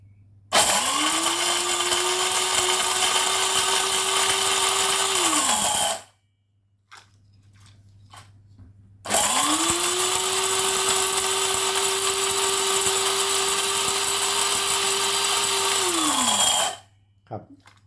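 An electric blender grinding dried banana roars loudly for several seconds, stops briefly, then starts again for another long steady grind before cutting off.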